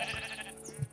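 A Minecraft zombie groans briefly in the game, a short muffled moaning tone heard alone over a steady background hum.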